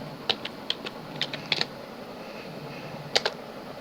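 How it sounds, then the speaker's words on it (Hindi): Light, sparse keystrokes tap on a computer keyboard in short bursts of a few clicks each, close and fairly quiet, with a pause in the middle. "तो यहाँ हमें टाइप करना है ब्लैक"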